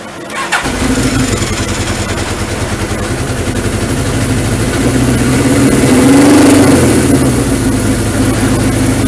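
A Suzuki GS 1000 motorcycle engine cranks and catches, then settles into a loud, close, rumbling idle that rises slightly in revs.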